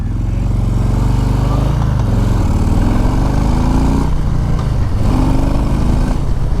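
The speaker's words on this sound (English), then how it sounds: "I want to be able to give it a little throttle." A 2020 Harley-Davidson Low Rider S V-twin roars loud and close as the rider rolls on throttle, its deep rumble climbing in pitch through two upshifts with no speech over it.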